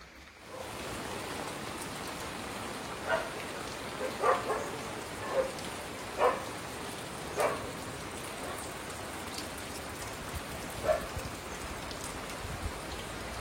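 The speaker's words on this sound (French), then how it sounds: "C'est la pluie tombe même ici, hein?" Steady rain falls throughout during the rainy season on Réunion, a soft continuous hiss with a few louder drips or knocks standing out every second or two.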